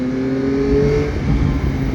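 A 2021 Yamaha Tracer 9 GT motorcycle engine revs up close and loud, a short, throaty burst swelling and then settling over about two seconds.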